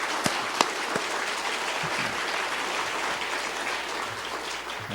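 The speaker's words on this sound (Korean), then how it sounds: "우리 하나님께 한번 영광의 박수를 한번 올려드립시다" Congregation applauding during a Korean church afternoon service marking a retirement and ordination ceremony, a brisk wash of many hands clapping with a few sharp isolated claps at the start, steady and moderately loud.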